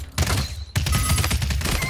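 Rapid gunfire in the battle royale game Realm Royale, two close bursts of loud shots landing headshots, the first brief and the second a longer rattling volley.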